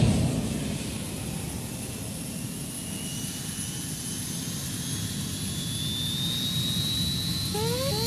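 Space shuttle engine ignition in the Scramble Training video game: a loud, sustained jet-like roar that holds steady throughout, with faint rising whines near the end.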